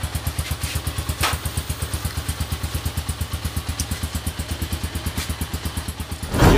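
A motorcycle engine runs steadily with a fast, even pulsing rumble, close by during a road test after a pinion gear damaged the clutch housing gear, with a brief clatter near the end.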